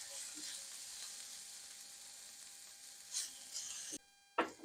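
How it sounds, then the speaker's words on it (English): Onions seasoned with salt and pepper frying in a pan, a steady hiss of sizzling that runs for several seconds before a few brief stirring scrapes and clatters near the end. "We're going to cook these onions down for about 5 minutes or so, just until they get nice and tender."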